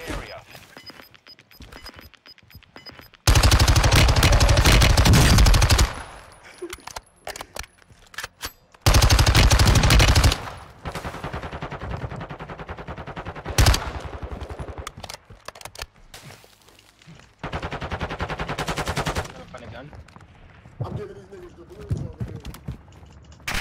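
Automatic gunfire in Call of Duty Warzone 2 erupts in loud sustained bursts, a long spray followed by another heavy burst and scattered shots, with players talking between volleys.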